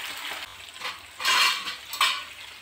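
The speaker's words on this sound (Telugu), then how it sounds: "ఈ విధంగా కార్న్ మొత్తం కూడా వేసుకొని గంటెతోటి ఇలా అనుకుంటూ దీన్ని మొత్తం కూడా మంచిగా ఫ్రై అయ్యేంత వరకు కూడా ఫ్రై చేసుకోవాలి" Masala-coated sweet corn frying in hot oil in a pan, stirred and scraped with a ladle, giving close metallic clinks and scrapes in a few short bursts over a soft sizzle.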